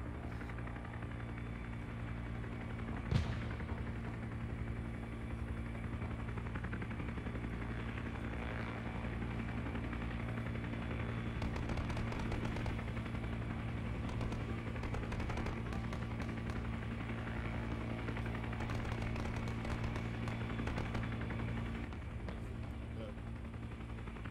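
A helicopter in the military video game ArmA 3 drones steadily as it lands near a staged squad, a constant low rotor and engine hum under occasional distant gunfire and a single sharp crack.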